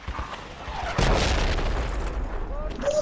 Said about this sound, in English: Just waiting on this mortaring to stop